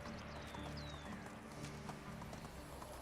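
Hooves clip-clop at a quick gallop as a horse runs in the Medieval Dynasty game, a faint rhythmic patter with a brief whinny over ambient outdoor game sounds.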